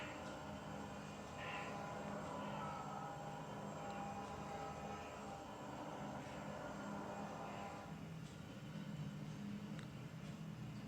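A freight train climbing Tehachapi with Alco RS3 diesel helpers on the rear, working hard: a steady, faint, distant engine drone and rumble with tonal hums holding for the whole stretch.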